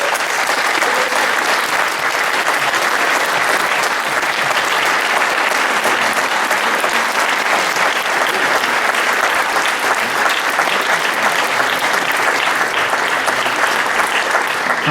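A crowd at a radio station anniversary gathering gives a long, even round of applause, dense and loud clapping sustained throughout without a break.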